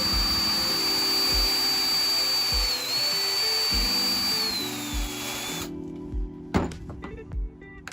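A power drill whines steadily for several seconds through a drill guide, drilling for an anchor in 80/20 aluminum framing inside a Ford Transit van, then cuts off, followed by a few clunks and a sharp knock.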